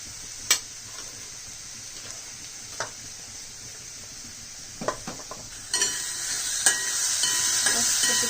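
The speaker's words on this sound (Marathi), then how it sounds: "असं परतून घ्यायचं. तेल थोडं टाकायचं, लय नाही टाकायचं." Turmeric and spices sauté in a small amount of oil with a soft, steady sizzle, broken by a few sharp scrapes and taps of a spoon against the pan, the hiss growing louder toward the end.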